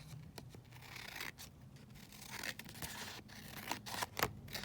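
Scissors snip through laminated ephemera pieces up close. The crisp cuts come in an irregular series of sharp clicks, with papery rustling between them.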